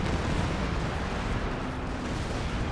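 An artillery barrage in the Company of Heroes 2 video game rumbles as a dense, continuous wash of distant explosions and booms layered together, with no clear single blasts.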